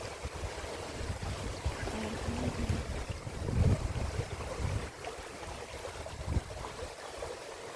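Steady, loud wind buffeting the microphone with a low rumble by a rocky river on Lantau Island, Hong Kong, gusting stronger in a couple of brief surges, no talking.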